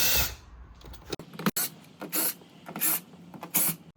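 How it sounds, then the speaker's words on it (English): A screwdriver works Phillips head screws out of plastic interior trim in a 4th Gen Toyota 4Runner, giving bursts of close, scratchy turning and clicks in a steady rhythm. "we're going to remove these 5 Phillips head screws and then pull out the plastic trim"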